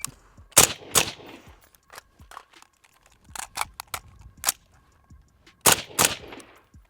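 Semi-automatic rifle shots from an AK-pattern rifle fitted with a Psy conversion kit for AR-style controls, fired outdoors in a loose string of sharp, loud cracks, some paired in quick succession, with gaps between groups.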